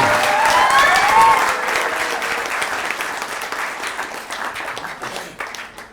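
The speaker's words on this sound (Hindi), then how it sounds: "आपसे ज्यादा ताली तो ये लोग बजा रहे हैं" Audience applause at a live theater performance of the play Dil Ki Dukan, a loud burst of clapping from a crowd that starts strong and gradually thins out while carrying on, with no talking over it.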